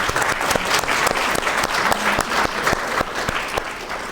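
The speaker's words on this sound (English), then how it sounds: "So let's give them a round of applause," An audience applauds at the opening welcome of a conference, dense steady clapping from many hands holding at a full, even level for about four seconds.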